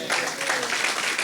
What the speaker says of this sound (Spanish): ¿Cuántos aplauden a Jesús?